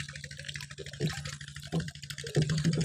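Water sloshing and splashing in a drum as urea and sulphur fertilizer are stirred to dissolve, with intermittent churning bursts close by and a low steady hum underneath.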